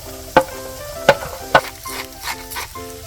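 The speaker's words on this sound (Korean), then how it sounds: "천천히 볶아주세요." Garlic or bacon stir-fried in oil over low heat in a pan for a bread-bowl cream pasta, with a steady soft sizzle punctuated by three sharp spatula scrapes and clinks early on, then gentler stirring.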